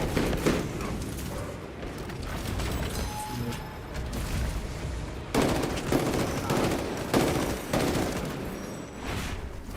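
Burst weapon fire in a combat video game: dense, continuous rattling bursts of automatic shots with heavy impacts, loud and close throughout, with no pauses and no talking.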